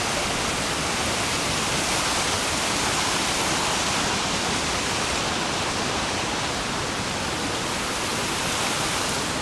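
A creek's water flows in a steady, unbroken rush of broadband noise, fairly loud and close, holding an even level throughout with no talking.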